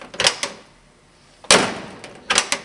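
A 1964 Corvair car door is slammed shut, giving a few close, loud thuds separated by short pauses, with lighter latch clunks just before and after the main slam.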